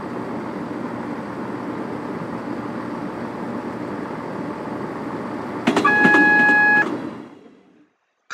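A steady low rumble of a Class 170 train in Train Simulator 2020, then a sustained AWS warning tone sounds for about a second before cutting off and the noise fades away.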